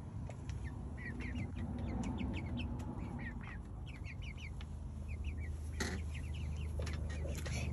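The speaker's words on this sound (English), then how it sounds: "These are my chickens." Chickens in a backyard coop give repeated short clucks and squawks, close and moderately loud over a steady background hum, with a brief bump partway through.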